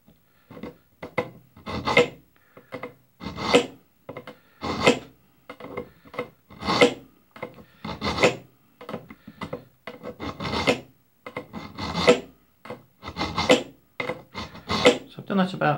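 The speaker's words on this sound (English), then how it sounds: "place it between the V-shaped blades and pull it back" A knife blade is drawn through a V-shaped blade sharpener again and again, giving about a dozen short, close, scraping rasps in a steady rhythm with quiet gaps between strokes.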